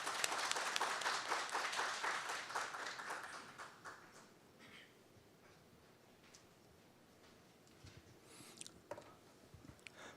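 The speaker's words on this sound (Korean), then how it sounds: "박수로 맞이해 주시기 바랍니다" Audience applause welcoming a government official to the podium at a public–private conference on transnational fraud, a dense burst of clapping that fades over a few seconds, followed by quiet room tone with scattered faint claps.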